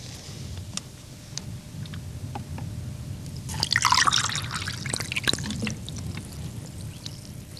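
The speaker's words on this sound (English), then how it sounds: "Pour some water on it." Water poured onto a lump of shale splashes and trickles, starting with scattered drips, swelling into a close burst of pouring and spattering, then tapering back to a few drips.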